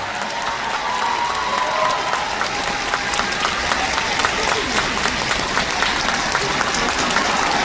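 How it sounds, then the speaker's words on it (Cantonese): A concert audience in Hong Kong breaks into sustained applause, a dense wash of many hands clapping at steady loudness for several seconds, with faint crowd noise underneath. "我哋俾個最大嘅掌聲"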